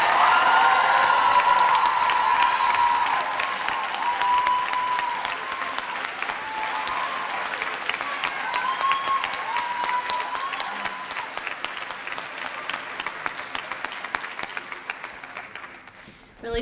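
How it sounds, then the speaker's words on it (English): Audience applause for the standing faculty at a Class of 2019 commencement ceremony, a broad, loud roll of many hands that holds strong at first, then gradually thins and tapers toward the end, with scattered voices and a few cheers. "please stand so that we can all applaud them and thank them for their scholarship and devotion to these girls"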